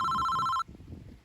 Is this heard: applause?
no